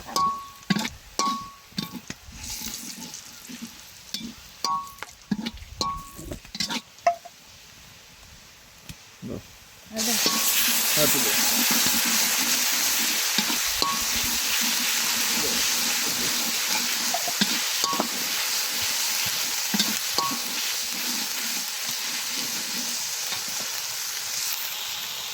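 Ginger and garlic fry and get stirred in mustard oil in a home kitchen pan; scattered clatter and a voice come first, then a loud, continuous close sizzle takes over for the remaining fifteen seconds.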